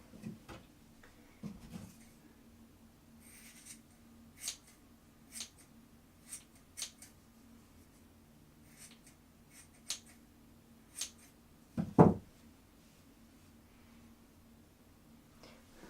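Scissors snip through the yarn ends of a handmade tassel, a run of sharp, quiet clicks spaced a second or so apart, close by and otherwise near-silent, with one louder cut near the end.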